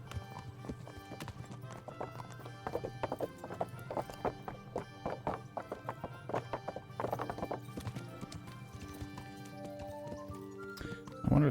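Hooves clip-clop steadily as a horse is ridden in the medieval game Kingdom Come: Deliverance, with an occasional whinny over a low musical bed and a louder burst at the end.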